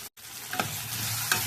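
Tomatoes with asafoetida fry in oil in a pan for lemon rice, a close continuous sizzle broken by a brief gap and a couple of soft stirring knocks.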